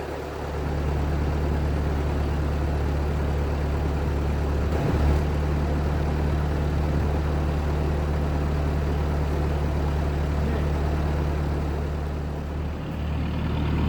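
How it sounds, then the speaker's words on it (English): A 1940s Ford tractor engine runs steadily at a low idle outdoors in winter after an ice storm, a loud, constant deep rumble with a strong low hum that stays even throughout the clip. "Let's go fire up the old 1940s Ford tractor."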